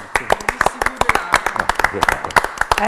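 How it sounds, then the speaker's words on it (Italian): An audience applauds in a burst of scattered claps, with a voice talking over the clapping throughout. "Possiamo applaudire? Possiamo applaudire."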